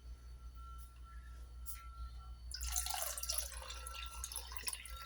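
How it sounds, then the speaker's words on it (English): Water is poured into a cooking mixture, starting about halfway with a splashing, gurgling pour that continues to the end over a low steady hum. "Now I will add water to it."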